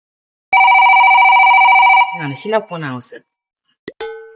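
A loud, steady electronic phone ring sounds for about a second and a half and then breaks off, followed by a brief nearby voice.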